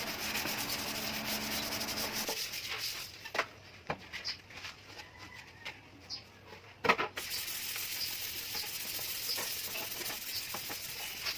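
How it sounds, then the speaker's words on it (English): Fine 800-grit sandpaper rubbed over a metal Vespa scooter part: a continuous close scratchy rasp, then a stretch of sparser scuffs and taps before the steady sanding resumes. "Using the 800 grit sandpaper, this will remove all remaining residue."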